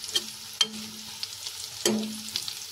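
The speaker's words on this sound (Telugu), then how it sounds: "ఇదిగోండి మన కాకరకాయ ముక్కలు అయితే మగ్గిపోయాయి" Bitter gourd pieces softening in a pan, stirred with a few distinct scraping strokes over a faint, steady sizzle, with no voices.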